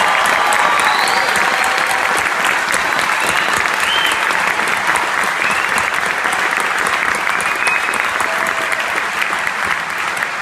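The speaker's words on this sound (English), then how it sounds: "let's give these cadets a thunderous round of applause" An audience at a December 2014 youth academy commencement applauds the graduating cadets: steady, dense clapping fills the whole stretch at a loud, even level, close and sustained without a break.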